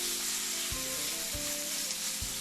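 Chicken pieces laid skin side down in a hot skillet give a steady, close sizzle and crackle, with a few soft thumps as pieces go in, no talking.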